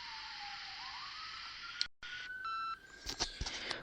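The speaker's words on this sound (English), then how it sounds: "There's sirens going by" Emergency sirens passing outside, a faint wailing tone rising and falling in the distance, followed by a short electronic beep and scattered clicks close by.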